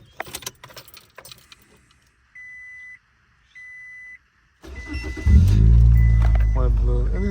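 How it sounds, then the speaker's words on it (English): Keys jangle and click in the ignition of a 2006 Scion xB, then two dash chimes sound before the engine cranks and catches into a loud, steady idle. "I'm gonna start the car."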